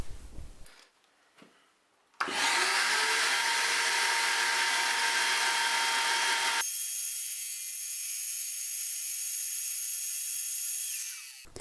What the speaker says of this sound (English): I'm just going to literally sand that profile in.